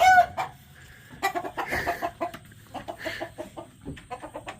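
Several hens cluck and squawk close by in a busy, agitated burst of short calls, with a brief high squeal at the start.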